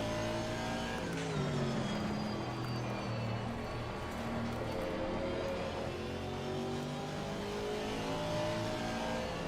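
An Aston Martin Vantage V8 GT3 race car in Assetto Corsa Competizione revs hard around Zandvoort, its engine note climbing and dropping through repeated gear changes, loud and continuous with a brief tire squeal.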